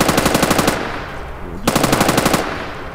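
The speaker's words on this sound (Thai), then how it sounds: "ปืนโคตรดีเลย" Machine gun fire in Minecraft from a lucky-block gun: a loud, close, rapid rattling burst, a short pause, then a second sustained burst at the same fast, even rhythm.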